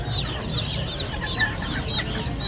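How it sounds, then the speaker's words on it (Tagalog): Farm chickens make soft, repeated high chirping calls at a steady pace, several birds overlapping at moderate distance over a constant low rumble of background noise, with no talking. "Ano ba manok to?"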